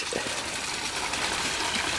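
Pond water pours steadily into a container to wash bio-balls, giving a continuous gushing, splashing wash that stays close and even with no pauses.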